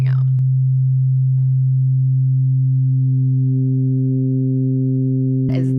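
An FM synthesizer holds a sustained tone at a 1:1 ratio as the modulator is turned up, bright overtones building into a buzzy saw-like timbre, loud and steady, with a brief click near the end.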